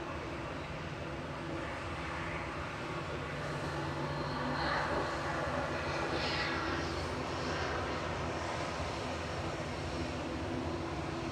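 A Boeing 737-800 jet departs Manchester Airport, its steady broadband engine roar sustained and moderately distant across the whole stretch, swelling slightly midway with no voices.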